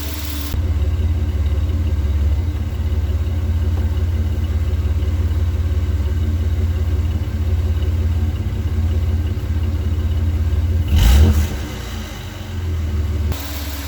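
A Ford Explorer idles while warming up, a steady low engine rumble heard close and constant, with a brief louder bump near the end.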